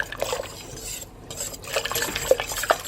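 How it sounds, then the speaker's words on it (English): A spoon stirs minced garlic and vegetables in a pot for seafood gumbo, giving soft scraping and light clinks of metal against the pot, close and quiet with no talking. "Let's give that a little stir, mix the flavours around"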